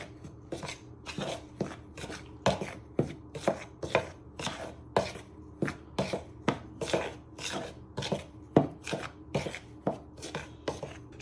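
Muffin dry ingredients stirred with a knife in a bowl, a steady run of rhythmic scraping strokes, close and fairly quiet, around two per second.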